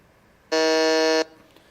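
A single quiz-show buzzer gives a loud, steady electronic tone lasting under a second, starting and stopping abruptly in an otherwise quiet room.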